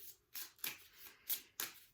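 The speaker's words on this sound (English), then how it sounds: "So I'm just going to give these cards a little bit of a shuffle." Oracle cards being shuffled by hand, several short papery riffles and flicks in an irregular rhythm, close and quiet with no one talking.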